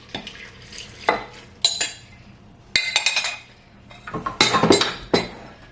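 Salt being stirred into water in a bowl, a spoon scraping and clinking against the sides in several short bursts separated by pauses.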